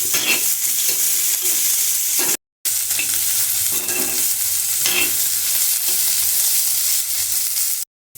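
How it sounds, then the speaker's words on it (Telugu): Ivy gourd pieces frying in a pan, stirred with repeated scraping strokes over a continuous sizzling hiss, broken by two brief moments of silence. "ఇప్పుడు ఈ దొండకాయ ముక్కల్ని బాగా కలుపుకొని ప్లేట్ వేసుకొని ఈ ముక్కలన్నింటినీ కూడా బాగా మగ్గనివ్వాలి"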